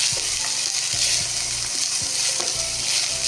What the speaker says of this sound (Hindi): बस फिर 2 मिनट हम बस इसको शिमला मिर्च को चिकन के साथ हम इसको पकाएंगे।